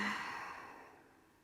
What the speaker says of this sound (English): Exhale completely